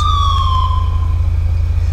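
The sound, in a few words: police car sirens in a video game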